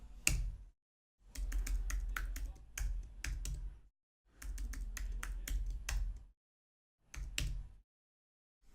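Bursts of quick typing on a computer keyboard while a root password is changed, clicky keystrokes in short runs separated by silent pauses, close and clear with no talk.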